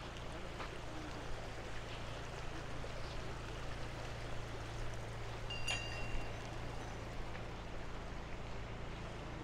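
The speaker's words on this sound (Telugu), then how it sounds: "చూడండి మొత్తం వాటర్ ఇలా వెళ్ళిపోతున్నాయి, ఎప్పుడు ఆగవంట" Mountain stream water flows steadily along the route to Adi Kailash and Om Parvat, a constant broad rushing wash with a low hum, continuous and fairly near without voices.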